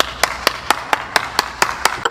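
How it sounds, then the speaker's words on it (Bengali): Group of people clapping in a steady, evenly spaced rhythm of about nine sharp claps, close and loud, at a lively gathering after a song, with no talk over it. "এই সবাই হাততালি দাও"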